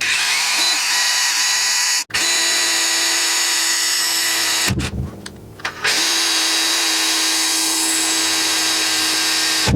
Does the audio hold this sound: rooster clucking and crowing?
no